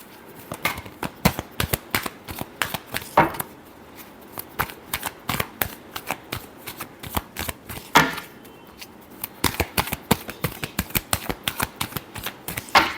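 Tarot cards are shuffled close by in a quick run of crisp riffling snaps and slaps, with brief pauses, no talking.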